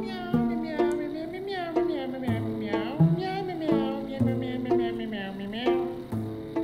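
A human voice imitates a cat with a string of drawn-out, repeated meows at a steady, close, moderate level, one after another.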